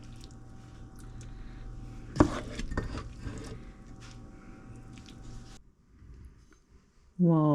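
Tofu stewed in tomato sauce with shallots, garlic and onions being dished out with utensils: a sharp metal clank, a few scraping and squishing scoops against a pot, over background hum that cuts out near the end.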